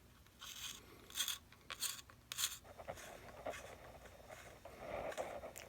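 A drawing pencil is sharpened in a multi-hole sharpener, making a quiet series of short scraping and shaving strokes, then a softer continuous grinding toward the end, all heard close up.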